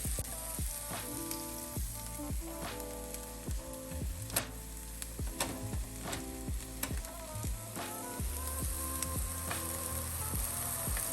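Onions fry and sizzle in a pan while being stirred, a soft crackling bed running throughout beneath prominent background music.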